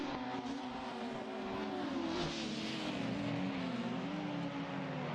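BTCC touring cars, including Toyotas, racing at Bikernieki, with a steady, loud roar of several engines revving and shifting pitch together as they pass, continuous throughout.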